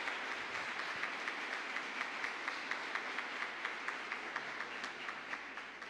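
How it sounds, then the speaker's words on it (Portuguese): Steady applause from a church congregation at a service, dense even clapping sustained throughout at moderate distance with no voices over it. "dê uma salva de palmas"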